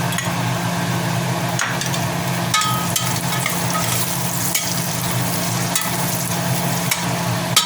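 Onions frying in a pan for beef pinapaitan, a loud continuous sizzle with regular knocks and scrapes of a spatula stirring against the pan.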